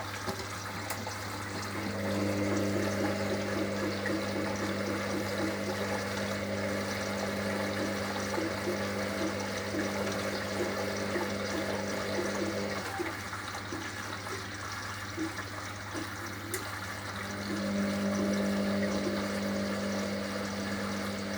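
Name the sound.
Hoover HLW585DC washing machine filling with water for final rinse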